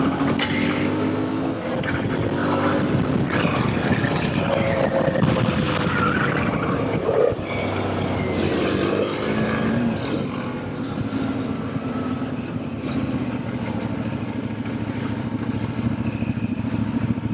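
Ibex 450 or Himalayan 450 motorcycle riding along back roads, engine droning steadily and close throughout with wind rush and slight shifts in pitch, no talk.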